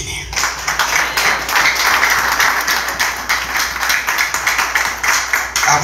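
A church congregation applauds, with many hands clapping in a dense, loud, steady burst that lasts several seconds. No one talks over the applause.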